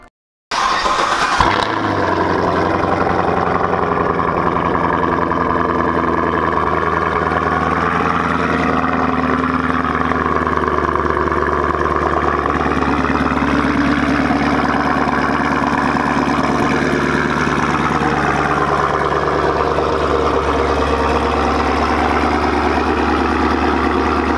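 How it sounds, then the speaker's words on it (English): A car with Eibach lowering springs fires up on a cold start with a quick crank and catch, then settles into a loud, steady, rumbling idle right next to the listener, the pitch wavering slightly as the revs settle for over twenty seconds. "we got to do a quick cold start"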